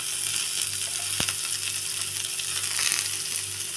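Chopped cabbage goes into a pan of frying onions, a steady moderate sizzle with one sharp metallic tap early on and soft stirring movements.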